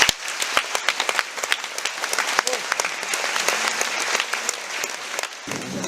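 A large audience at the Géopolitiques de Nantes talk in Nantes applauds steadily, with dense, sharp hand claps filling the room nearby and then ending abruptly.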